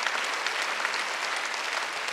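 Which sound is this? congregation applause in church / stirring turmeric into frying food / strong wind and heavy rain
congregation applause in church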